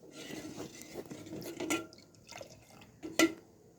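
Milk going into a pot for a carrot dessert, soft liquid gurgling and splashing with a few sharp clinks of metal utensils against the pot, close and fairly quiet.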